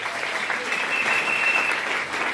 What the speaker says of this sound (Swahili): Napigia makofi tafadhali.